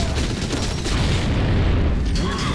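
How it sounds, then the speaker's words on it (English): A frag grenade detonates in the Gears of War 3 video game, a loud, dense boom that fills the whole clip amid continuous battle noise, with low rumble throughout. "Try explosives. Frag out."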